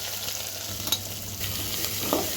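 Onion pieces fry in a pan with fenugreek, cumin, mustard seeds and dried red chillies, giving a steady close sizzle with a few stirring scrapes and no talking.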